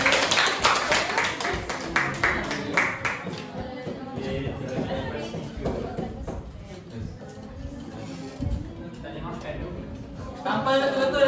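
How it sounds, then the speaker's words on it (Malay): Year 2 students in an Islamic education class clap for their classmates Firdaus and Zaid, a loud burst of rapid clapping at the start that fades into shuffling and talk, then picks up briefly again at the end. "semua bagi tepukan untuk Firdaus dan Zaid"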